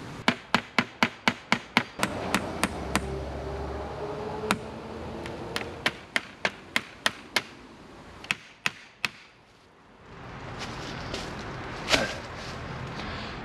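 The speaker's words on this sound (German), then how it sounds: "Und damit das so bleibt, werde ich das jetzt erstmal festnageln" Hammer blows driving nails into a wooden log store frame, a quick run of sharp, evenly spaced strikes, a pause, then further irregular bursts of knocks at close range, with outdoor background noise and a brief rustle near the end.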